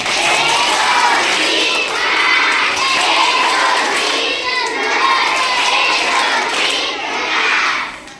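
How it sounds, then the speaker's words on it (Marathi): A hall of school students claps and cheers to welcome guests, a dense, loud wash of applause with shouts rising and falling throughout. "सर्व विद्यार्थ्यांनी टाळ्या वाजून पाहुण्यांचे स्वागत करायचे"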